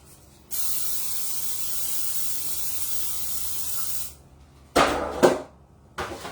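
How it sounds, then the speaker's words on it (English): A long steady hiss of non-stick aerosol cooking spray on a pan lasting several seconds, followed by a few clattering knocks of the pan being handled nearby. "We're going to baptize it with the non-stick spray."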